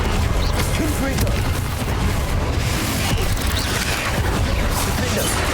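A Confringo fire spell blasting in Hogwarts Legacy, rapid loud bursts and booming impacts layered over a constant heavy rumble, with sharp crackling hits scattered through and spell voices mixed in.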